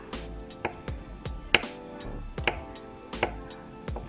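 A knife cuts through canned potatoes on a cutting board, giving about a dozen soft, evenly paced chops. They sound close but quiet.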